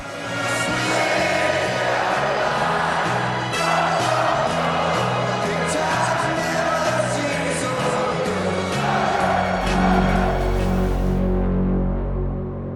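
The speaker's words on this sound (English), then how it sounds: "the huge crowd broke into song" A huge racecourse crowd sings loudly en masse as runners are led out before The Everest race, voices and cheers filling the air before the singing cuts off, leaving a low rumble.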